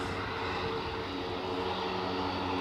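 An aircraft departing Aberdeen airport toward Wick roars with a steady, broad engine rumble, loud and continuous through the short stretch with no voices.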